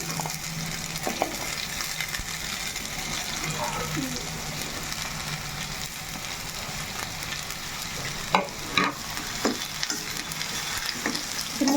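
Thinly sliced bitter gourd rounds fry in a pan with a steady, close sizzle, broken by a few sharp scraping stirs and spatters.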